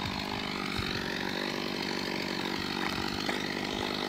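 A chainsaw with a dull blade cuts through wood, running loud and steady at close range without a break.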